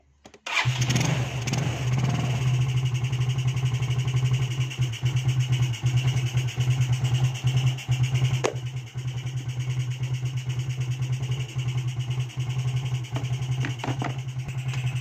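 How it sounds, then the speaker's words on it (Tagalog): A motorcycle with a diaphragm problem is started, catching after a short crank and settling into a loud, steady, close idle that runs on and drops slightly in level partway through. "Start ko muna yung makina."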